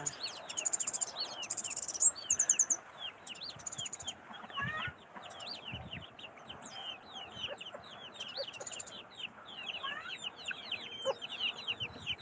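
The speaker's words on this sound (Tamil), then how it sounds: "கோழி பூரா வந்து பக்கத்தில் வந்து நிற்கும்" Chickens cluck and call in a busy outdoor yard, with insects buzzing steadily in the background and scattered rustling nearby.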